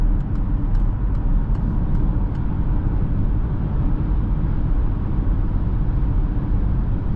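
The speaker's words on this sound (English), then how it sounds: "Slowing down to 100, I want you to hear the noise." Cabin of a 2021 Peugeot e-2008 Allure electric car slowing down from about 100 km/h at night on slightly rough tarmac; a steady low road and tyre roar fills the space, with a few faint ticks early on.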